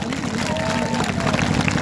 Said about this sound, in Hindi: जोरदार तालियां दीजिए आप